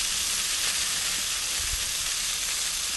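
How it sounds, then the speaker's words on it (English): A steak on an outdoor grill, just flipped, sizzles with a steady close hiss that stays even throughout and has no talking over it. "it's time to rotate this steak over"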